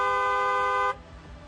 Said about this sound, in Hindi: हॉर्न बजाना जरूरी है।